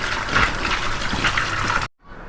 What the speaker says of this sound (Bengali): মাছটি আমি ধুয়ে নেই ভালো করে নুন দিয়ে সাফ করে